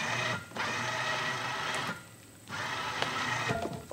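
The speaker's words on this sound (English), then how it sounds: "I better go ahead and just winch it." Electric winch pulling a load up onto a Kawasaki Mule utility vehicle, a close, steady motor whir that dips briefly twice before running on.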